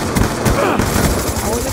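Gunfire in Call of Duty Black Ops 2 rattles out in quick, loud bursts over a short span, with a voice talking alongside.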